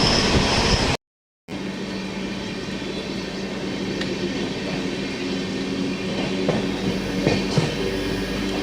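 The Garib Rath Express rumbles steadily through Shahzad Nagar railway station, with a continuous loud roar of wheels and carriages and faint rhythmic clicks over the rails.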